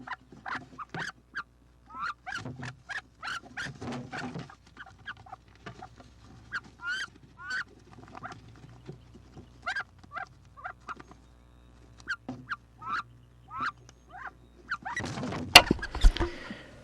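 Wood ducks fighting, with a long run of short, rapid squeaky calls and scuffling thumps, close and mostly alone, ending in a louder burst of splashing and thrashing.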